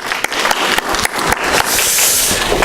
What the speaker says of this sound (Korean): 우리 축하 박수 한번 드렸으면 좋겠습니다